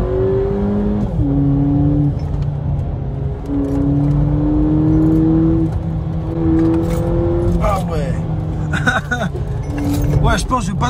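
A 2019 VW Polo GTI with a 200 hp 2.0 TSI engine revs and accelerates hard through several gear changes, a loud in-cabin drone climbing in pitch and dropping at each shift.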